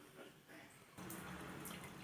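Cleaned small fish being rinsed in water for cooking, a faint splashing and trickling that grows louder halfway through, like water running and being swirled in a bowl.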